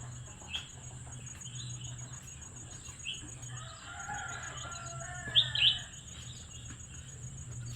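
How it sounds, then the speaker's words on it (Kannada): Several birds chirp and call from a tree in the morning, scattered short tweets at moderate distance over a steady background hum, with one brighter burst of calls near the end. "ಮರದ ತುಂಬ ಪಕ್ಷಿನೇ ಕೂತಿದ್ದಾವೆ ಮೇಲೆ"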